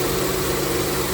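A Honda Pilot engine idles steadily after a timing belt tensioner replacement, a low, even hum without rattles, at moderate level and with no talking.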